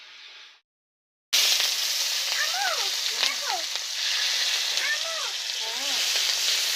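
Eggs frying with spices in a pan, cooked down dry in a Bengali home kitchen, a steady loud sizzle after a brief silence, with a few curving whistle-like tones drifting over the hiss.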